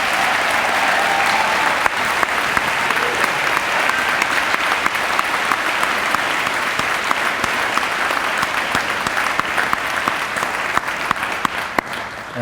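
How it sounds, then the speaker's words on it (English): A school-district convocation audience gives a loud, sustained round of applause for its Teachers of the Year, with dense clapping filling the hall throughout. "let's give one more round of applause to our Teachers of the Year"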